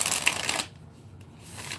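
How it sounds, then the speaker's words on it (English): A deck of playing cards gets a quick riffle shuffle: a loud, dense burst of crisp card flutter that cuts off abruptly, then a quieter stretch with light handling noise. "I know you don't like when I shuffle the cards."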